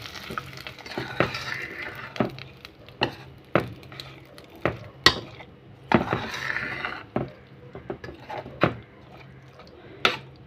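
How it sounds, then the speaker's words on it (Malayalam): A spoon stirs and scrapes through pumpkin and bean erissery curry with roasted coconut in a pan, giving repeated knocks against the pan over a steady sizzle, close and fairly loud. "ഇളക്കി കൊടുക്കാം."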